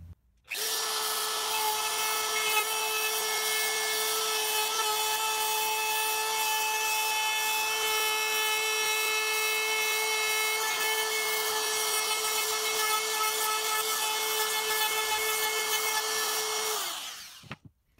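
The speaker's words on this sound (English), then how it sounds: "We're just going to router out a small recess to accept this butt hinge." A trim router cuts a recess for a butt hinge into wood while fitting a bench seat in a Mercedes Sprinter camper van, running as a steady, loud, high whine for about fifteen seconds before spinning down.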